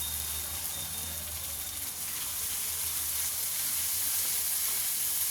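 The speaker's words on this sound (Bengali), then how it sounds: "একটু ভাজা ভাজা হোক।" Ginger-cumin paste fries in a pan, giving a steady, bright sizzle and hiss that holds evenly and grows slightly louder toward the end, with no one talking.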